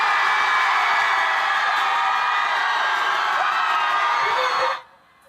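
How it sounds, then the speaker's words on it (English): A huge crowd of university students screams together in a world record loudest-scream attempt, a sustained, dense roar that holds steady for nearly five seconds and then cuts off abruptly into quiet. "The students set a record for the world's loudest scream."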